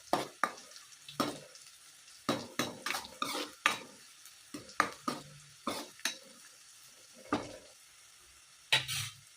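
Amla pickle cooking in oil with garlic over a low flame, with intermittent metal spoon scrapes and clinks against the pan over a faint, soft sizzle.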